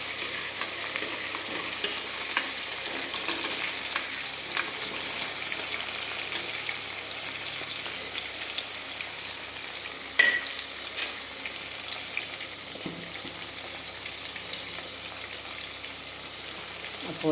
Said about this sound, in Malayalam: ഉള്ളി ഒന്നായിക്കോട്ടെ ഒന്ന് ഇളക്കി കൊടുക്കുന്നു